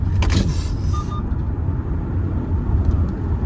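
A large 2024 Kia EV9 electric SUV accelerates hard from about 50 km/h on a road in Singapore, giving a continuous low road and tyre rumble with wind noise and no engine roar.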